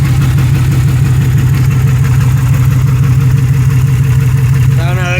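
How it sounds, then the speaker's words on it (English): Close and loud, a misfiring engine in a 2006 Pontiac Grand Prix car idles with an uneven, pulsing low rumble that barely changes the whole time. "she's running, she's blowing heat. It's misfiring for sure"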